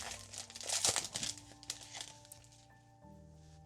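A foil Disneyland trading card pack wrapper being torn open and crinkled, loud close crackling and tearing that settles into quieter rustling.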